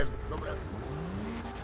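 Car driven in the video game GTA 5, engine tone gliding upward as it accelerates, under someone talking in Polish.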